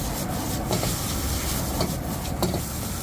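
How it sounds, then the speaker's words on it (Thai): Rice and egg sizzle and hiss in a hot wok while being stir-fried for crab fried rice, a steady close frying noise with occasional scraping strokes and no talking. "ผัดข้าวกับไข่ให้เข้ากันสักพักนึงนะครับ"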